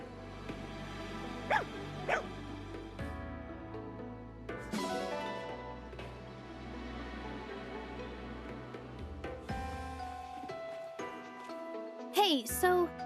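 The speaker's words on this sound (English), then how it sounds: "Oh, look, a puppy." Puppy in the Fire Emblem Engage video game giving a few short yips and barks among game music and jingling effects, with players talking over it.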